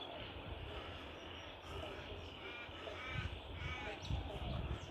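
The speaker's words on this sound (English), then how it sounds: "Crows saying hello." Crows cawing in a garden at sunrise near a gum tree and bird feeder, a few harsh calls standing out over steady outdoor background noise, moderately close.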